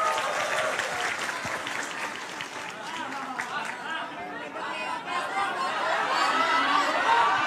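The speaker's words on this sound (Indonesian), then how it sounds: "Tepuk tangan sekali lagi buat Antonius." An audience at a public question-and-answer forum breaks into sustained applause, with dense clapping mixed with crowd chatter and a bit of laughter that swells slightly toward the end.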